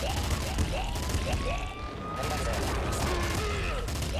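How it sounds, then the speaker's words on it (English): A heavy assault rifle rattles in continuous machine-gun fire in Nuclear Throne. The loud, dense bursts run the whole time, mixed with whooshing and whistling game effects. "I guess I'm okay with the heavy assault rifle here. Machine gun."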